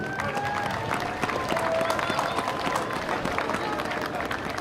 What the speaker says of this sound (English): Let's give them again a round of applause.